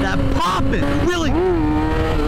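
Yamaha R6 sport motorcycle engine wound up hard in second gear, a close, steady tone that climbs, dips and climbs again over wind rush.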